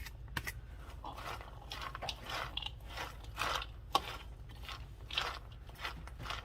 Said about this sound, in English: I'm going to stir that into the corn